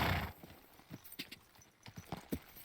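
A horse galloping in the video game Kingdom Come: Deliverance 2, with quick clip-clopping hoofbeats in an uneven rhythm, fairly quiet and without any speech.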